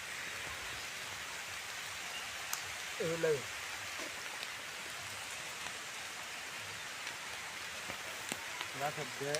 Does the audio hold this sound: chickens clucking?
no